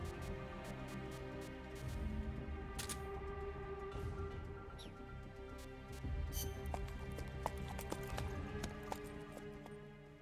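In a stealth video game set in a tropical cloud forest, horse hooves clip-clop in a steady rhythm against soft ambient tones and scattered sharp clicks, fairly quiet and with no voices.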